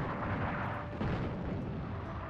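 Artillery shells exploding in a North Africa war video game, a dense continuous rumble of heavy blasts that stays loud and steady throughout, with no voices.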